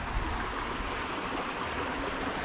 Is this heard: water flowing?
yes